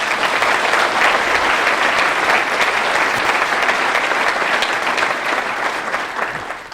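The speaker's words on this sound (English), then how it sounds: "Can you give yourselves one more big round of applause?" An audience at a school district leadership conference bursts into a dense, sustained round of applause, steady and full throughout before easing slightly at the end, with no voices standing out.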